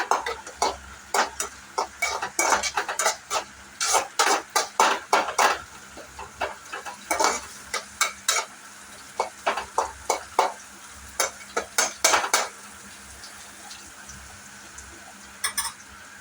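A spoon repeatedly scraping and clacking in a pan of onions frying in oil with mustard seeds for tomato thokku, steady rhythmic stirring strokes in bursts over a soft continuous sizzle.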